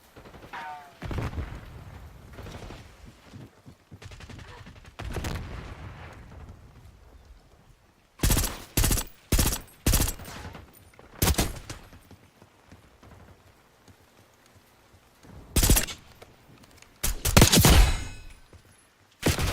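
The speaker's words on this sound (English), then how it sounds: "Hostile long gun neutralized. Died before they heard the shot." Sharp bursts of video game gunfire crack out in clusters, several rapid shots then a pause, then more shots later, loud against a quieter background with no talking.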